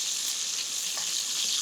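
Duck meat sears in a pan for a stuffed-duck dish, with a steady, dense, bright sizzle of frying fat that stays loud and even throughout, no voices over it.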